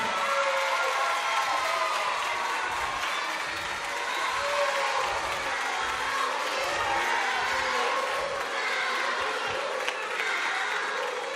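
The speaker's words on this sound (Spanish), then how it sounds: "un aplaudiment per a ell" Sustained applause from a crowd at a primary school end-of-year show, a thick, even roar of clapping that carries on without a break, with some cheering mixed in.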